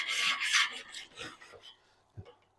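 Handheld scraper rasping burnt residue off a pellet smoker, several close gritty scraping strokes that fade, then a single faint knock.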